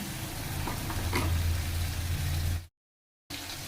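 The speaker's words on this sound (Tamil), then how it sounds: "நல்லா தக்காளி பெரிய பெரிய தக்காளி, பழுத்த தக்காளியை 3 தக்காளி அதை கொஞ்சம் வதங்கட்டும்" Three large ripe tomatoes sauté in a pan for a capsicum egg thokku, a steady close sizzle and crackle that cuts out abruptly to silence for a moment before resuming.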